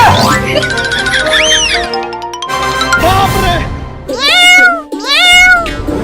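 Several loud, drawn-out cat meows with rising and falling pitch, mixed with a busy musical background and clutter; the last two meows come close together.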